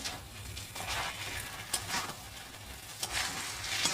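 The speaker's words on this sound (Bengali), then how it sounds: "এইবারে ব্রোকলিটা ঢেলে দিচ্ছি ব্যাস এবার ব্রোকলিটা দিয়ে ভালো করে কষিয়ে নেব" Broccoli is stir-fried in a pan, a soft, close sizzle punctuated by brief scraping bursts as the florets are stirred and tossed, with no talking.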